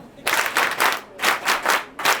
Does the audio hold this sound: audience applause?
yes